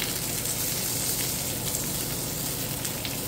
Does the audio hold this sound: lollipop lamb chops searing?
yes